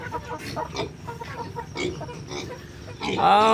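Chickens cluck and squawk nearby in scattered bursts, with a louder squawk at the end; no clear talking.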